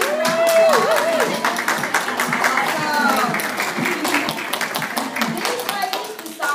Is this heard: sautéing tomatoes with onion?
no